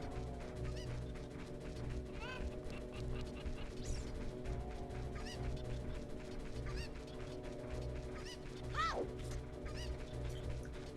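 Chickens in Zelda: Ocarina of Time fill a busy game scene with repeated squawky clucks and honk-like calls over steady ambient music and rattling effects, with one louder swooping call near the end.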